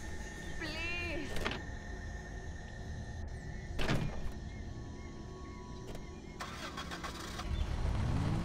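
A car engine starts in the Dead Island video game, with a brief cranking burst followed by an idling rumble, mixed with door and mechanical clunks.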